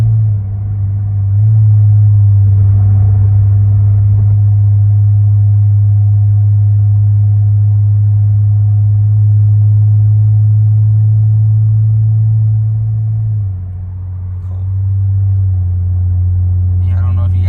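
A car exhaust drones at around 2,000 RPM, a loud, steady low hum heard from inside the cabin while cruising, easing briefly near the end before returning.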